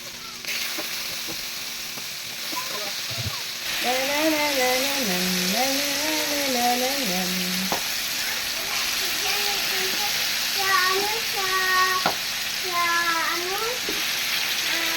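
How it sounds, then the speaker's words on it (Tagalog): Steady hissing sizzle of chicken frying in hot oil in a pan for chicken adobo, with people talking over it at times. "prito na natin yung manok"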